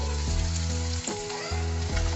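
Loud, steady sizzling of marinated fish frying in hot oil, a dense crackling hiss with a few bubbling pops, no voices.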